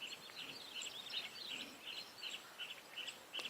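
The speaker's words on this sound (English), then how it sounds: "There's such a lovely array of birds calling from the dam." Various birds call from a dam at sunset in a safari setting, with many faint, distant chirps and tweets overlapping steadily against a quiet background.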